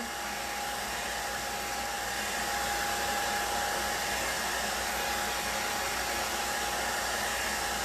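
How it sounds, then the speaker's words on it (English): A hair dryer blows steadily on a high setting, a constant close whooshing hum with a faint whine, running alone for the whole stretch. "So just a normal hair dryer is great. Put it on the hot setting, medium."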